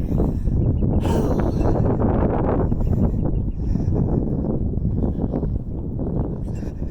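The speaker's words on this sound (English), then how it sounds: "The wind is coming at me." Heavy wind buffeting a microphone while someone walks outdoors on a windy day, a loud continuous low roar with gusty rumble throughout and no speech.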